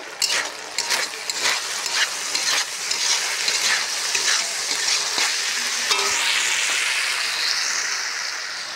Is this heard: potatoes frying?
yes